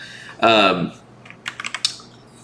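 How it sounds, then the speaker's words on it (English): Quick keystrokes on a computer keyboard during video game play, a short burst of several sharp clicks following a brief voice, close and clear. "I'm using my keyboard right now"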